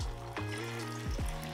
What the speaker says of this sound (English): I'm gonna carefully lower a few patties into the oil.